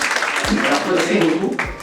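Audience clapping for a newly elected president at a Rwandan community gathering, a short continuous patter of hands with a voice cutting in briefly.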